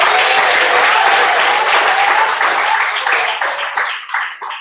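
A church congregation claps loudly and steadily during a Pentecostal service, the applause thinning and fading away over the last second.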